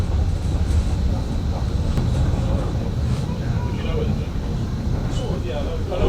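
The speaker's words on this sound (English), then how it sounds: "This is how old trains sounded." An old train on the Bluebell Railway rumbles steadily and loudly at close range for the whole stretch, a dense low roar with faint higher rattles and hiss on top, while voices murmur under the noise.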